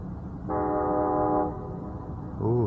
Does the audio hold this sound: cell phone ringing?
no